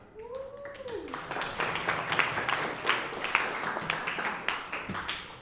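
Applause for a classmate in a classroom, a scattered burst of hand claps that grows denser and keeps going for several seconds, starting with a rising vocal whoop and mixed with voices.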